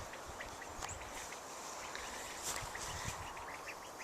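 Ducks in a wired grow-out pen give short, scattered quacks over a steady outdoor background hiss, with a few louder calls standing out near the middle and end.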